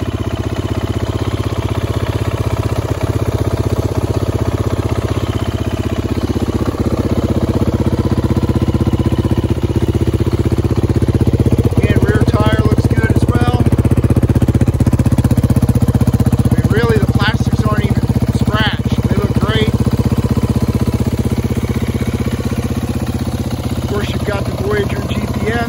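A 2019 Beta 500 RR-S dirt bike with Tusk hand guards and an LED light bar runs steadily close by, its single-cylinder engine thrumming at a constant idle-like drone throughout.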